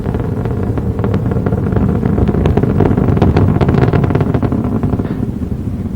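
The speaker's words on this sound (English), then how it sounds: "Endeavour's engines throttling down now as the orbiter passes through the area of maximum dynamic pressure on the vehicle in the lower atmosphere" Space Shuttle Endeavour on its STS-49 launch ascent, a continuous loud roar of engines with crackling, buffeting bursts that ease slightly toward the end.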